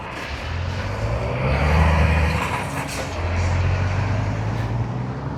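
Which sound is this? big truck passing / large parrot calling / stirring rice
big truck passing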